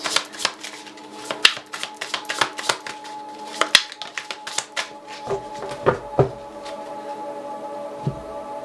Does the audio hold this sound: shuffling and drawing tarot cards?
yes